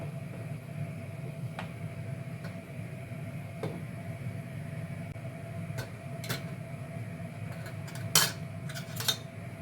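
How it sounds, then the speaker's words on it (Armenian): A chickpea and meat soup is stirred in a pot and then covered. Quiet, sparse scrapes and taps give way to sharper metallic clinks and a lid clatter near the end. "Մի լավ կխառնեմ ապուրը, բերանը կծածկեմ, թող եփվի մինչև պատրաստ լինելը։"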